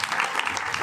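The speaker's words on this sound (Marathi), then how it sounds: "एकदा तुमच्यासाठी जोरदार टाळ्या वाजवा" A crowd at a kirtan during a Shivnam saptah in Krishnur, Naigaon, claps together in a dense, steady burst of applause that is close and fairly loud.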